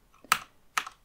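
Two quick, crisp keystrokes on a computer keyboard while an email is being typed, close and isolated against near silence.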